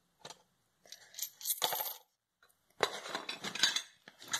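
Coins rattle and jingle inside a box in several bursts of shaking, metallic clinks separated by short pauses, close and fairly loud.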